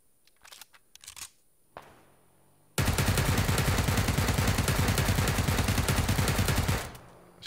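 Suppressed automatic rifle fire in a video game: after a few scattered clicks, a long unbroken burst of rapid, evenly spaced shots runs for about four seconds at close range, then stops.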